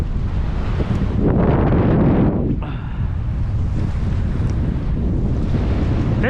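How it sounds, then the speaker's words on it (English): Strong wind buffets the microphone on a muddy lakeshore while walleye jigging from shore, a loud, continuous roar with gusts swelling and easing, broadband rumble dominating throughout with no speech. "this wind's getting stronger."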